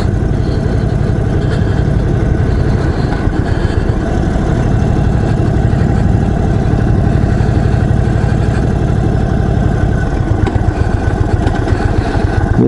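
Indian Chief Dark Horse 2021 big custom motorcycle engine running steadily while being ridden on the road, a loud continuous low throb that holds throughout with no talking.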